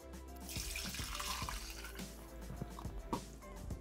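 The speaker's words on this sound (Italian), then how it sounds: "Senza lavare il boccale, mettere l'acqua" Water poured into a Thermomix TM6 mixing jug in a kitchen before boiling pasta, a steady, soft splashing and trickling stream lasting the whole stretch, quiet and close, with no talking.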